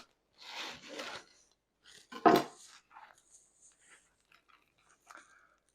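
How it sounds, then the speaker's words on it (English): A knife saws through a crusty 70% hydration loaf of homemade bread, giving two close crackling bursts of crust cutting, then a few faint rustles and small taps with no talking. "so I'm gonna cut these open and see what the crumb looks like"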